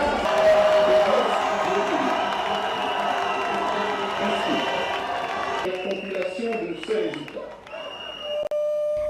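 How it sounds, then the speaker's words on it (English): Crowd of Brice Oligui's supporters in Gabon, loud and close, with continuous cheering and scattered clapping. Voices and a brief beep rise over the din. "Brice Oligui's supporters erupted in joy, cheering and clapping"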